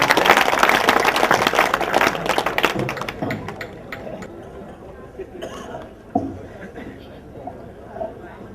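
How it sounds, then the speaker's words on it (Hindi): Audience clapping at a mushaira Urdu poetry gathering, strongest in the first three seconds and then thinning to scattered claps and taps, with a few isolated louder claps near the end. "बहुत जोर की ताली बजना चाहिए,"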